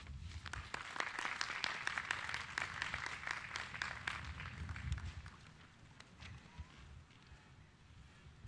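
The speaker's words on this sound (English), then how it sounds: "Let's give her a round of applause" A graduation ceremony crowd applauds the school board president, a dense, distant wash of clapping across a large open venue that thins out and fades after a few seconds.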